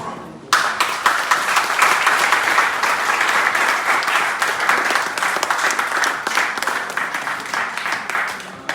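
A crowd at a customary wedding breaks into loud, sustained applause, many hands clapping together steadily for several seconds.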